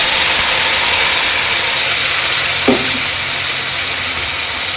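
Spice paste with cumin and bay leaf fries in a pan for a mutton liver and chicken dish, giving off a loud, steady sizzling hiss with a brief stirring scrape partway through.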